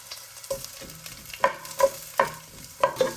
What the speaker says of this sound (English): Then saute ginger. Next is the onions.